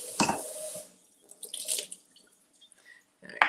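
Tap water splashing briefly in a kitchen sink as shrimp are rinsed, a few short irregular gushes and drips separated by quiet gaps.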